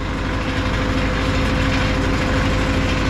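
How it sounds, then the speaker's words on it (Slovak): A John Deere 6155M tractor engine idles steadily close by, a dense, loud, unbroken mechanical rumble with a constant low drone and no voices. "No, traktor necháme tak, nech beží."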